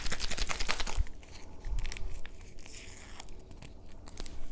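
Someone opens a 1970s long range patrol ration's instant coffee packet, a delaminating bag, with a burst of close crinkling and tearing, followed by quieter rustling and crackling of the foil-like wrapper.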